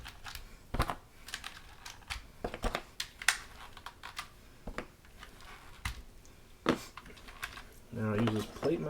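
Keycaps being pulled off a Hexgears Supernova mechanical keyboard, an irregular series of sharp plastic clicks and pops, close and alone, ending in a brief rustle.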